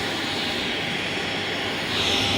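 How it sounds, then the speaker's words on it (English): A Bombardier Challenger business jet taxiing close by, its steady engine roar and whine holding throughout and swelling slightly near the end, with no voices over it. "Look what's rolling up right here, a little Challenger."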